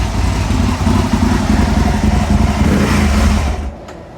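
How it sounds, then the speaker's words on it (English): Aprilia motorcycle engine at operating temperature, a loud close rev held steady with a throbbing low rumble for about three seconds, then dropping away quickly. "let's just give it a little rev and see where we are"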